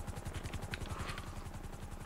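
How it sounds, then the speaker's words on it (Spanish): Helicopter from a zombie survival video game, steady pulsing rotor chop passing overhead, continuous and moderately loud throughout with no talking. "el helicóptero que con el cual me está sobrevolando"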